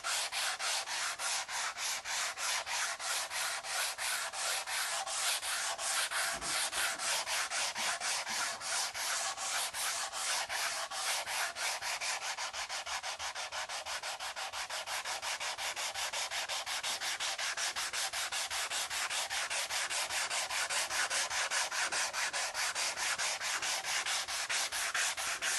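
Steady, continuous sanding of a guitar body in preparation for finish, a close abrasive rubbing hiss with a fast even stroke texture running unbroken throughout.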